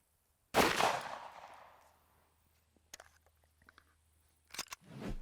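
A Glock 21 pistol firing a single .45 Hornady Critical Duty 220 grain FlexLock round, one sharp loud crack with a decaying echo, followed by faint clicks and clatter.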